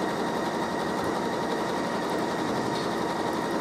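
A Janome Skyline S7 sewing machine runs steadily and close up while stitching a quilting stem, a fast continuous mechanical whir with no talk over it.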